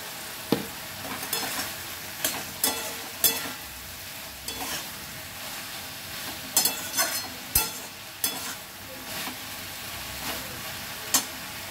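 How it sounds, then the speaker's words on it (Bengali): Ginger garlic paste fries in a pan for hot chicken while a spoon stirs it, giving a steady sizzle broken by sharp, irregular scraping clicks of the utensil against the pan, close and without speech. "আদা রসুন বাটাটা দেওয়ার পর আবার কিছুক্ষণ নাড়াচাড়া করে নেব।"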